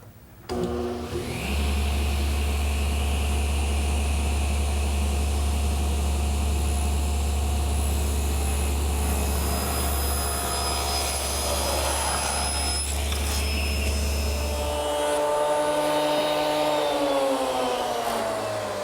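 Table saw running at a steady, loud whine while tapers are cut on table legs, the blade droning through the wood for about fifteen seconds before the motor winds down.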